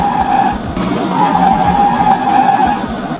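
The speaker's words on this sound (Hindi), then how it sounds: "क्या गंदी स्किट मारी यार, आवाज़ आई मुझे तो बहुत तेज आई" A scooter's tyres skid loudly on the road, producing a close, sustained squealing screech that runs for about three seconds with slight wavering in pitch.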